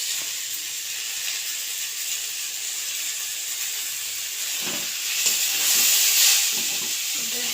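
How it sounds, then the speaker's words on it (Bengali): Soaked lentils being stirred with spices in a hot cooking pan give a steady, close sizzling hiss that grows louder and brighter toward the end. "ডালটা একটু নেড়ে নেবো, মিক্স করে দেবো।"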